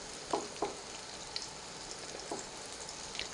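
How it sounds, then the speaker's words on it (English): Okra fries in hot peanut oil in a small electric pan, giving a steady close sizzle with a few sharper pops and crackles and no talk. "this is peanut oil that we're frying them in"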